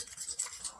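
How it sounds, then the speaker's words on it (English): A spoon stirs buttermilk into biscuit dough in a bowl, a soft, close scraping and clinking with small rhythmic pulses and no talk. "So I'm just stirring this up."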